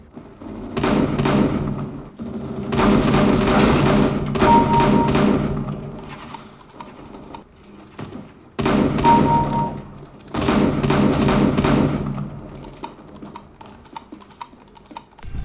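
Loud volleys of rapid gunfire in Counter-Strike: Global Offensive, played through ELAC Debut ConneX speakers, arrive in several separate bursts, with lighter clicking and clattering between them and no talking.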